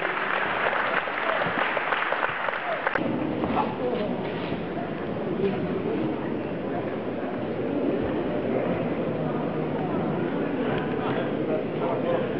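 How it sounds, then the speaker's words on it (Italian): Crowd applause for two boxers at the end of an amateur boxing bout, steady broadband clapping filling the room for several seconds, with voices and background chatter running underneath. "Un bel applauso per i due pugili!"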